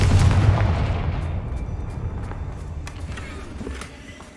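A Confringo fire spell explodes in the Hogwarts Legacy video game: a loud, heavy boom at the start that rolls into a long, fading rumble.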